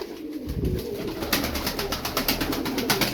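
Tumbler pigeons released into the air give off a fast, rhythmic run of wing claps and flutters mixed with soft cooing, close and fairly loud.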